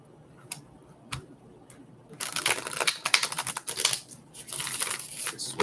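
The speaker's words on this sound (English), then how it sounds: "I'm gonna shuffle." Tarot cards being shuffled, a few sparse flicks and taps at first, then a dense, continuous riffling patter of cards close up, with no talking.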